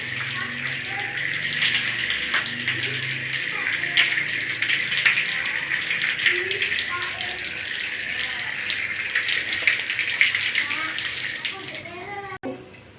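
Hands rinsed under a running tap during handwashing before a postpartum physical examination, a steady broadband water gush flowing continuously for about twelve seconds before stopping abruptly.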